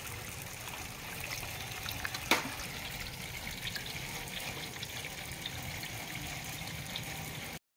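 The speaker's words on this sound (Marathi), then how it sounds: "आणखी आपण 1-2 पाण्याने धुवून घेऊ याला।" Fresh river fish (mali) being rinsed in water for a village-style curry, with continuous faint splashing and trickling and one sharp brief splash or clink near the middle.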